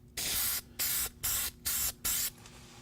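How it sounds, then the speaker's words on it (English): Five bursts of hissing aerosol spray, each about half a second with short gaps between, close and loud, followed by a fainter lingering hiss. "I'm going to use the same spray paint I used earlier."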